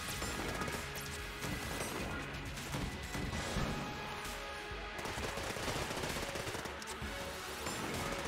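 Relentless rapid-fire shooting from a fast-firing gun in the modded roguelike shooter Enter the Gungeon, a dense, continuous barrage of loud shots and crashing impacts that holds steady throughout, no talking.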